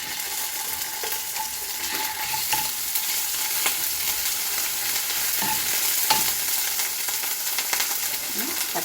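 Sliced onion fries with garlic and ginger paste for an ivy gourd curry. It gives a loud, continuous hissing sizzle, with occasional soft clicks and scrapes from stirring in the pan.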